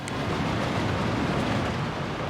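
Train rolling along a railroad in the Workers & Resources: Soviet Republic game, a steady, dense rumbling wash of wheel and track noise held at an even level, with no voices.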